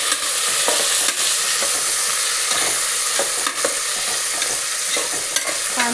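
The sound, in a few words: sautéing onion and carrot in pan for palak pulao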